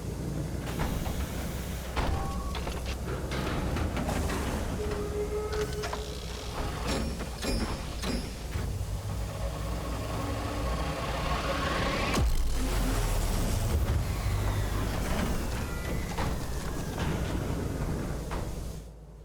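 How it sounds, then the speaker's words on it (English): Machinery grinds and stirs while steam vents in the Sunless Skies video game, a dense close mechanical rumble with metallic scrapes, clanks and rising hissing sweeps that carries on steadily for a long stretch. "The machinery grinds and stirs. The steam starts to vent."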